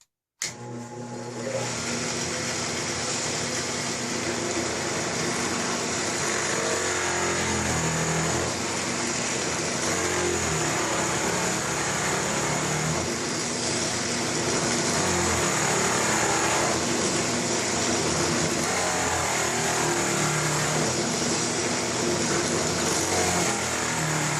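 Harbor Freight 10-inch benchtop drill press with freshly tightened twin belts, switched on with a click and then running continuously, a loud, steady motor whine and belt hum lasting over twenty seconds without talk.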